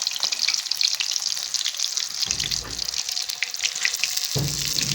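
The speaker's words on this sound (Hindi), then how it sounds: "अब ऑयल गर्म हो चुका है। इसमें हम मछली डाल देंगे।" Fish pakora in a gram-flour coating fries in hot oil in a kadhai, giving a loud, steady, close sizzle and crackle that runs throughout, with no talking.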